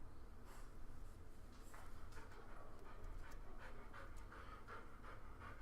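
A pet dog pants rapidly and steadily from the heat, a close, breathy rhythm of quick huffs running throughout with an occasional snort, no talking over it.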